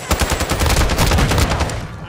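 Rapid, dense gunfire from close-range weapons in Warzone 2 Resurgence, loud and continuous with overlapping blasts and echoing reports filling the whole stretch.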